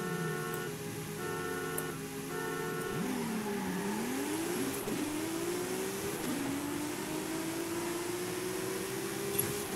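A car engine in the racing game Forza Horizon 5 revs and climbs in pitch through several gear changes, a steady, fairly quiet drone with no talking.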